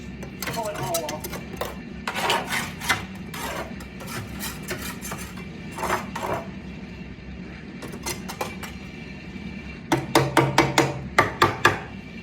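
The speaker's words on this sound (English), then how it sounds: "I'll give it a little tap and I'll use my builder's trowel and just pull it all off." A builder's trowel scrapes lime mortar off a panel during repointing of a French farmhouse, with rough scraping and clinking broken by a few taps. Near the end comes a quick burst of sharp knocks. Talk runs faintly underneath.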